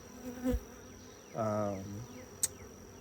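Honey bees buzz around an open hive frame during an inspection, a close, steady droning buzz swelling for a moment amid quieter background hum and a few faint clicks.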